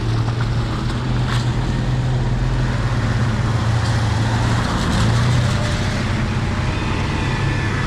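Steady road traffic rumbles past at close range, a continuous wash of car and truck engine noise and tyre roar with a low engine drone, heard at a 2CV World meeting.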